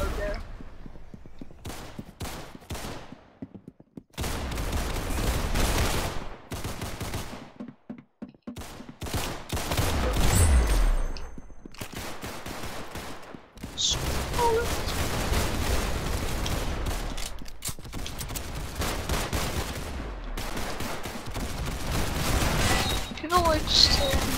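Gunfire in the Roblox game Arsenal, with bursts of rapid shots and sustained volleys broken by short pauses, loud and dense over roughly twenty seconds, while players talk over the shooting.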